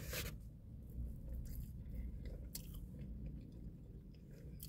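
Close, quiet chewing and biting on a barbecue rib with sauce, soft wet crunches and mouth sounds repeating steadily with a few sharper bites.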